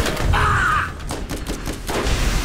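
Gunfire in the co-op shooter Borderlands: a quick string of sharp shots cracks out over a thick bed of game noise and low rumble, with a brief electronic tone sounding just before.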